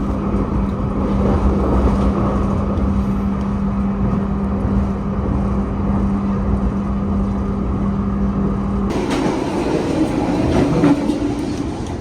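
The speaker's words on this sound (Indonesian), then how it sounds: "Nah itu kita berpapasan dengan kereta KRL ya." A KRL commuter train passing close by, heard from aboard a moving train on Java's southern line, a steady loud rumble and rattle with a hum that cuts off sharply near the end; no voices.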